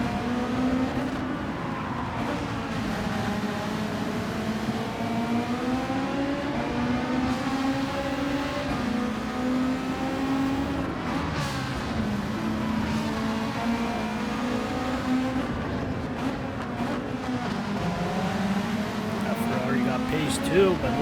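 Race cars in a racing video game, a Ferrari among them, drone steadily with sustained engine tones rising and falling throughout, under continuous commentary talk.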